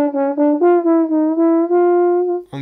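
A single-line instrument runs a quick jazz scale exercise built on chromatic approach notes, with about a dozen clear, close, legato notes stepping up and down, alone without talk.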